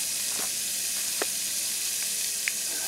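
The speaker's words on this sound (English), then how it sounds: "So I'm going to let that fry up for just a few minutes" Goulash meat seasoned with Montreal spice fries in a Dutch oven, giving off a steady close sizzle with a few faint clicks and taps across it.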